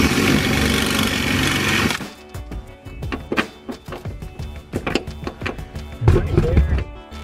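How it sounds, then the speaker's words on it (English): A power drill whirs steadily drilling out a hole for a thread rivet, then stops, followed by scattered metallic clicks, taps and short bursts of drilling. "we're just gonna drill this thing out until it fits."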